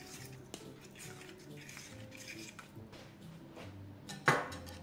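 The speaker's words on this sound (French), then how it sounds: "J'ajoute ensuite 2 œufs et bien mélanger donc à mes bananes écrasées de façon à ce qu'ils soient bien incorporés" Spoon stirring eggs into mashed bananas in a bowl, soft scraping and gentle clinks repeating at an unhurried pace, close and quiet, ending with one sharper knock against the bowl.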